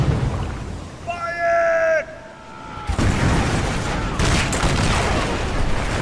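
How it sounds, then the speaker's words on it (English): Cannon broadside from a ship in a naval battle at Trafalgar, a heavy booming roar and rumble that follows a brief tonal whistle, loud and sustained. "But a British ship comes to the aid of the Victory and fires a terrible broadside into the"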